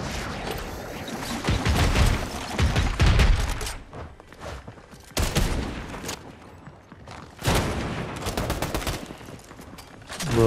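Rapid bursts of gunfire from the Fortnite video game, loud volleys separated by short quieter gaps with no talking.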